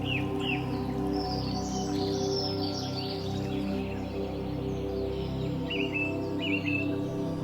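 Wild birds call and sing in scattered short chirps and whistled phrases, fairly faint over a steady outdoor background rumble, with no voices.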